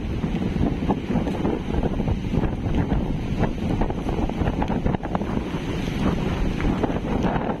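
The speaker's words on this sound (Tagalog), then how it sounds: "Malakas ang hangin ni Bagyong Pipito." Strong gusts from Super Typhoon Pepito batter the microphone at Dinahican, Infanta, Quezon, a loud, unbroken roar of storm wind with rushing, buffeting noise that holds throughout and nothing else standing out.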